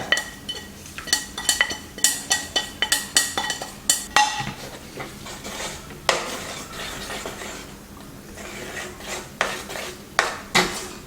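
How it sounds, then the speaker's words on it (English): Softened lentils mixed with tempered spices in a pot, a run of sharp, evenly paced spoon clanks against the metal sides close by, pausing briefly then resuming more sparsely. "Combine the spices with the softened lentils and mix well."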